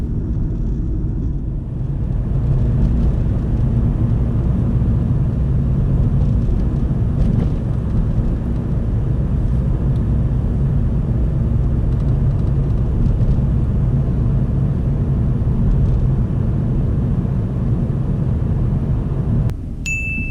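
Learner's car driving along a road during a driving test, a steady loud cabin rumble of engine and tyres throughout, with a brief clink near the end and no talk.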